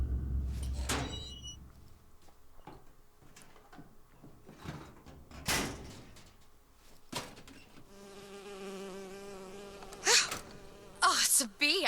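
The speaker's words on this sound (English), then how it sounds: "Oh, it's a bee. I hate these things." Insect buzzing from a bee in the video game BioShock Infinite, a fluttering drone that comes and goes, loudest near the end, mixed with sharp clanks and thumps of in-game action.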